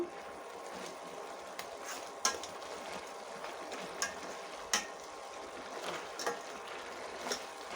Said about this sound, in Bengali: ঢাকনা তুলে এখন শাকগুলোকে আবার একটু নেড়ে নেব